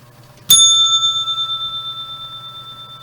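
A single bright bell strike rings out, like a bicycle bell, then its clear metallic tone lingers and slowly fades over a few seconds in an otherwise quiet room.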